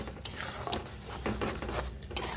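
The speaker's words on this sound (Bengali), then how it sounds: "তেলেতে একটু লঙ্কা আর একটুখানি মেথি পাতা ফোড়ন দিয়ে মশলাটা ঢেলে দিলাম" Masala spice paste being stirred in hot oil in a pan after a tempering of chilli and fenugreek leaves, spatula scraping and clinking against metal in short repeated strokes over a low sizzle, close and moderately loud.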